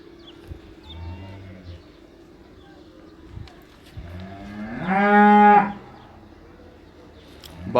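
Cattle at a cow sale, with a single loud, close moo swelling in the latter half, set among quieter lowing and barnyard background sounds, with bits of talk nearby.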